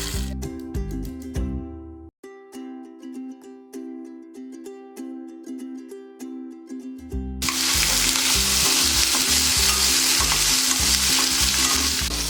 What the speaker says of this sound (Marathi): छोटे छोटे पनीरचे पीस भाजून घ्यायचे आहेत